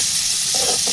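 Chopped onion sizzles steadily in hot oil in a pan, a loud, continuous hiss that stays close and even throughout.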